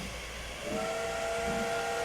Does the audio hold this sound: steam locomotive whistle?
yes